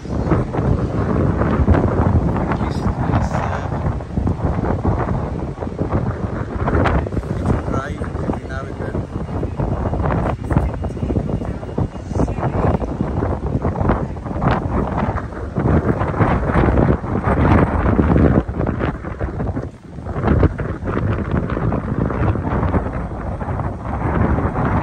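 Strong wind roars and buffets against the microphone on a London street, a loud, continuous rushing that swells and dips throughout, with faint voices underneath.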